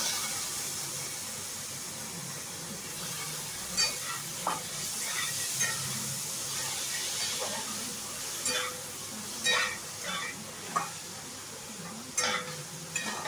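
Washed moth beans (matki) sautéing in a pan, a steady close sizzle broken by several sharp stirring scrapes and clatters of the spoon against the pan.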